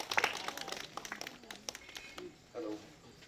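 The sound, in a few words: audience clapping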